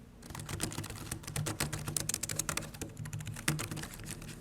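Square keycaps on a foldable Bluetooth keyboard with pantograph scissor keys clack in fast, continuous typing, crisp and close, with a louder keystroke near the end and no voices.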